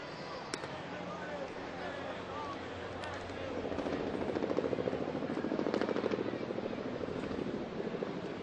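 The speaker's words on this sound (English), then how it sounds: "Helicopter going by" Helicopter passing over a baseball stadium during a major league game, its rotor chop swelling to a loud pulsing thud partway through and then easing off, over crowd murmur and a broadcast voice talking.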